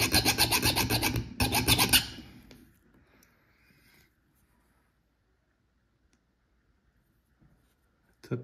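A file skates across a hardened 52100 bearing steel loader bushing, making a short burst of quick scraping strokes up close. The strokes stop after about two seconds, leaving near silence.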